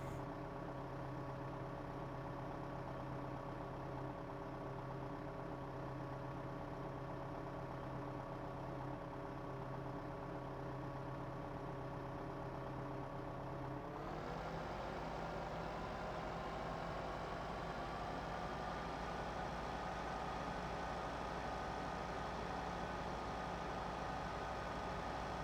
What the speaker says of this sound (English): And what tractor is that? That is a Mahindra 5010.